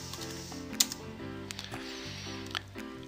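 Brief bursts of keyboard typing on a computer keyboard, a few light clicks heard over a low tonal hum, no one talking.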